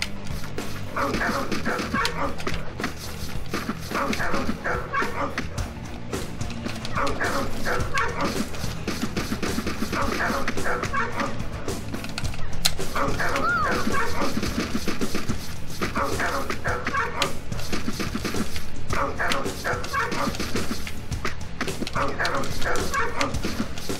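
Several dogs in the video game Akane bark, yip and whimper in repeated bursts over a constant music bed, with brief gaps between clusters of yelps.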